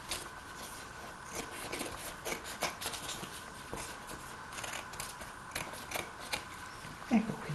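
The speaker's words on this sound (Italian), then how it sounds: "Poi con le forbici potrete fare il resto." Scissors cut through cardboard for a handmade picture frame, producing repeated crisp snips and scraping crunches at a steady close-up pace with no talking.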